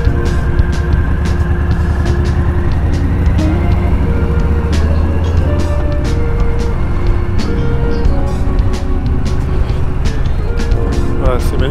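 Harley-Davidson Softail Standard motorcycle cruising at an easy pace, its engine a constant loud low rumble with wind and road noise, steady throughout with no breaks.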